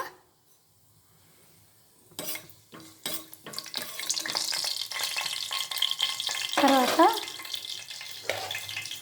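Oil sizzles and crackles as spices go into a hot pan, with a few clinks and stirring scrapes building into steady frying.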